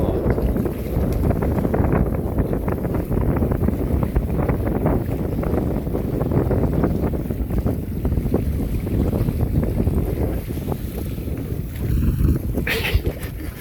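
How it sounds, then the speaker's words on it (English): Steady, blustery sea wind roars across the microphone for the whole stretch during canoe sailing off South Devon, with muffled rushing and buffeting and a brief higher scrape near the end. "We keep getting some gusts."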